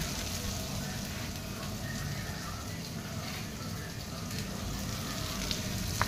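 Onions and green chillies fry in a pan with a steady, dense sizzle that holds at an even level throughout, close and continuous without pauses.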